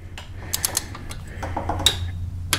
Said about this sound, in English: So I have my torque wrench set to 19,